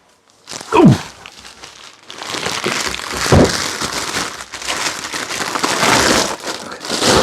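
Loud plastic crinkling and rustling close up, as a large plastic bag wrapping a 12.5 kilo block of bee fondant is pulled and unwrapped in bursts of crackle.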